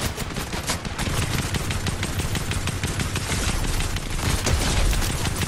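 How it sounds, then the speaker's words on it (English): Dense, loud gunfire from a video game shooter, rapid shots overlapping continuously with heavy low booms throughout, close and unbroken. "I'm dodging this guy's bullets."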